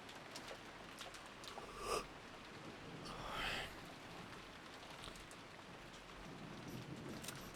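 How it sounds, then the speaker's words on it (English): Soft steady rainfall patters on a surface during a stream break, a faint continuous hiss with a couple of slightly louder swells and no voices. "we get like ASMR rain for the break"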